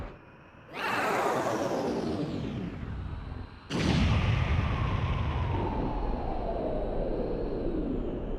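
Two large explosions boom in the video game Star Wars: Shadows of the Empire, each a sudden blast that rumbles and slowly fades, the second arriving about three seconds after the first.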